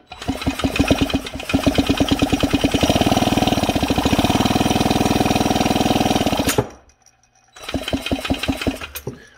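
A power drill spins a McCulloch Super Pro 70 chainsaw engine with no spark over with rapid, rhythmic chugging for several seconds, stops briefly, then whirs and chugs again.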